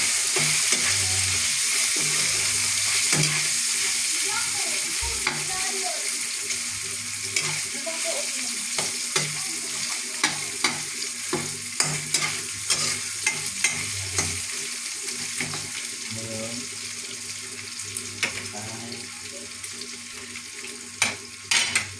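Shredded fried milkfish stirred and frying in a hot pan with garlic, a steady sizzle under repeated scraping and clinking of a spatula against the pan, close and continuous with no talk.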